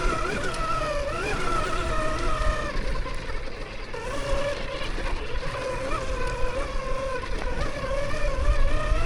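An MX30 electric dirt bike climbs uphill under constant power, its motor giving a steady whine that rises and falls over a rushing wind and road roar, loud and close, without speech.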